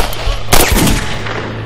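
Gunshots in a police drama shootout, a loud sudden close blast followed by a brief burst of rapid reports that fade into a rumbling tail.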